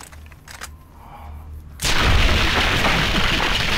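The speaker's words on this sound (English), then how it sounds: "Holy shit, there's explosions" Heavy explosion in the Fallout: New Vegas game bursts in suddenly and loudly after a quieter stretch, followed by a dense, sustained roar of blasts and rumble.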